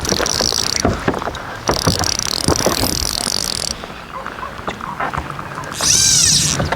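A boat moving on the water during fly fishing on Narragansett Bay, with a steady, loud rush of engine and water noise and a brief high squeal near the end.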